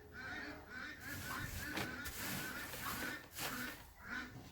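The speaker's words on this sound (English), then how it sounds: "otherwise there still might be a duck in here thinking she's hatching an egg" Geese or ducks honking and calling repeatedly from bedding in a homestead nesting area, a steady cluster of nasal calls at close range with no talk over them.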